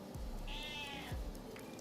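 A house cat gives a single drawn-out meow in the middle of a quiet room, fairly faint and alone, with low background hum around it.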